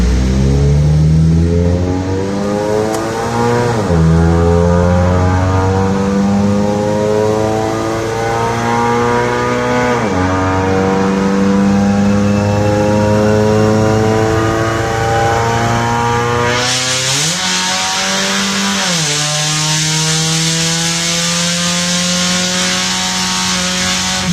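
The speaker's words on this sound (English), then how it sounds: "Muffler delete run." A Honda Accord DX with its muffler deleted accelerates hard, its raw exhaust rising in pitch through several gears with sharp drops at each shift, loud and close, ending in a harsher, brighter pull.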